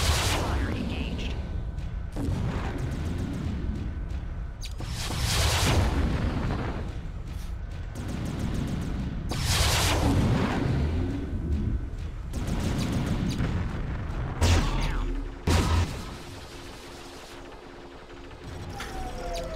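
Linked weapons fire in MechWarrior 3 booms in heavy, roughly rhythmic salvos every couple of seconds, loud and close, with a voice speaking over the blasts.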